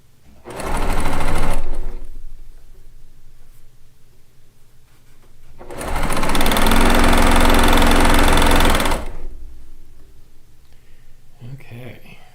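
A sewing machine stitches log cabin quilt pieces in two loud, sustained runs, the first about a second long and the second longer, separated by a quieter stretch with faint room noise.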